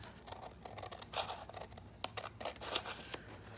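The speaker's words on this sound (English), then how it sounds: "So I'm actually going to trim that with my scissors." Scissors snip and cut through paper in a series of quick, close crisp clicks and swishes, irregular in rhythm, with no talking.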